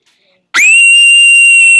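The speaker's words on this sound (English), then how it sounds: "I bet I can scream way louder than you." A loud, sustained high-pitched shriek starts abruptly after a moment of silence and holds steady at full volume to the end, sounding more like a piercing whistle-like tone than a voiced scream.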